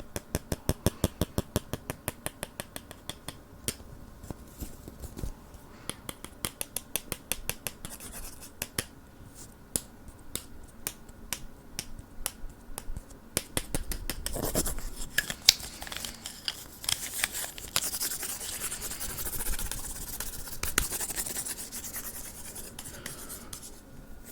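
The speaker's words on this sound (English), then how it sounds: "Notice the sound change the closer I tap to my hand." Rapid, crisp, close tapping near a hand, a long run of fast light clicks whose character shifts midway into a rougher, denser, brushier texture.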